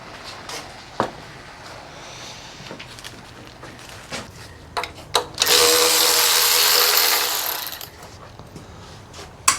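Scattered knocks and clicks, then a power tool whirs steadily at high pitch for about two and a half seconds before winding down.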